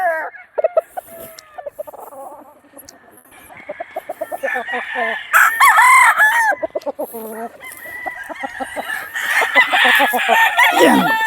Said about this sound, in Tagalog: Anak ito ng 2 times winner natin na Harold Brown Gray na nanalo ng stag season